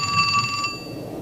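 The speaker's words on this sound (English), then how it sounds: "she purportedly received a phone call" A telephone rings with a bright, trilling electronic bell tone in one short burst that cuts off partway through, over a faint background hum.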